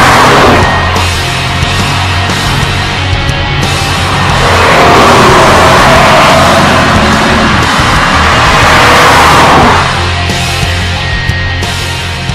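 A white Kia Stinger with the 3.3-litre petrol V6 drives hard, its steady engine drone rising into a louder, fuller roar midway before easing back, with a constant low rumble throughout and no talking.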